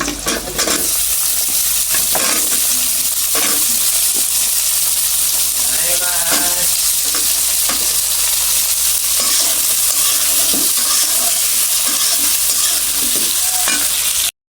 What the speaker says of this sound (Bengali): পেঁয়াজের সাথে আলুটা দিয়ে দেব।